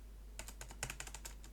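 Fast typing on a computer keyboard with about a dozen crisp key clicks in a quick irregular burst, fairly close and quiet, with no voices.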